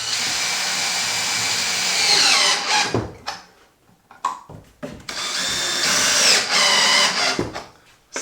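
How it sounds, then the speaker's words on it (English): A power drill drives screws partway into wood boards near wall studs during a bedroom renovation, with two loud close bursts of whirring separated by short stops and brief clicks. "just partially screwing some screws in the wood next to the studs so that I have something to pry on"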